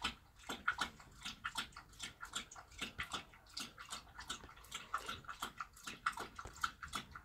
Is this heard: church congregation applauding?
no